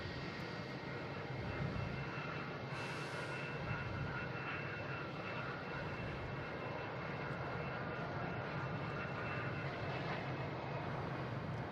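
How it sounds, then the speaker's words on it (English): An American Airlines Airbus A321neo jet from Phoenix lands on runway 4 right at Boston Logan, giving a steady broadband engine roar that holds at a constant level throughout, with no voices. "we have an American Airlines coming in on 4 right. coming in from Phoenix, an A321neo."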